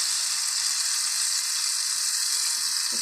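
Tomato paste sizzles in hot oil in a pan already holding fried chicken and green chillies for chicken karahi, a steady, dense frying hiss that runs unbroken and fairly loud with no voices.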